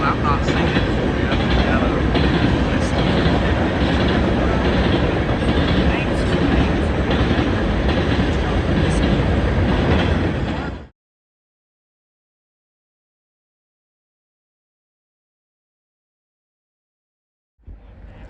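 A train passes at a distance in the early morning, a loud steady rumble that runs for about eleven seconds, then cuts off abruptly into silence before a faint sound returns near the end.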